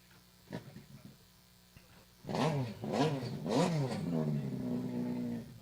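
After a few faint knocks, several watercross racing watercraft engines roar to life in quick bursts, revving up and down before settling into a steady loud idle.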